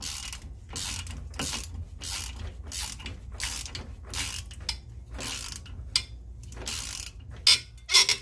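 A ratchet wrench tightens brake rotor bolts on a jacked-up vehicle, giving rapid bursts of close clicking separated by short pauses, with a few louder clanks near the end.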